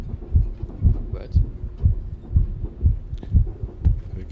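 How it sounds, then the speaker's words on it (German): Heartbeat effect in The Ghost Train horror video game, a steady low thumping pulse repeating about every half second, close and prominent with faint background hum. "Hör ich jetzt hier unseren Herzschlag?"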